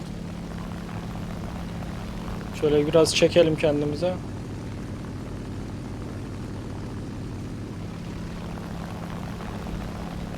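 A Mitsubishi A6M2 propeller fighter engine in the War Thunder game drones steadily throughout, a constant low hum, while someone talks briefly over it partway through.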